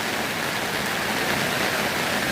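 Steady rain falling outdoors at Tarago, a dense, even hiss of drops spread across the whole clip with no breaks and no voices.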